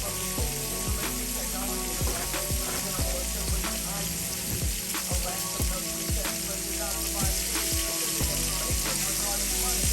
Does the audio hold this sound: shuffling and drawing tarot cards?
no